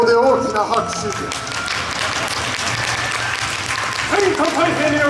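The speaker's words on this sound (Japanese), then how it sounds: "ここで大きな拍手で" An outdoor crowd applauds during a costumed samurai warlord troupe's performance, steady clapping with a voice calling out over it at the beginning and again near the end.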